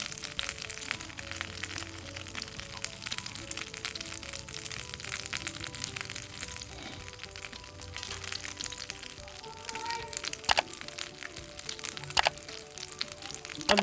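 Small cardamom pods fry in melted butter ghee with a steady, fine sizzle, and sharp pops and crackles break through near the end.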